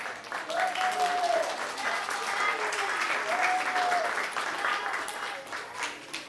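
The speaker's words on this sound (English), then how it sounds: "Give yourselves a round of applause." Steady audience applause fills the space at a children's drawing show led by a talking mime, sustained throughout with a brief vocal sound or two mixed in.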